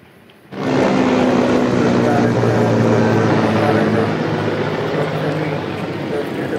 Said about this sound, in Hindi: हेलीकॉप्टर घूम रहे थे।